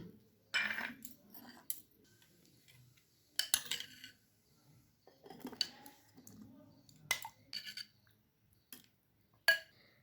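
Dried fruit soaked in orange juice is tipped into a cake batter mixture for a Christmas fruit cake, giving soft wet plops and a few sharp utensil clinks against a bowl, close and sporadic with quiet gaps.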